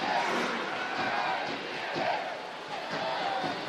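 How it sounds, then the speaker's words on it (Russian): A large crowd rumbles and swells into cheering, a dense roar of many voices filling the space without distinct individual speech. "Тут же оживились трибуны."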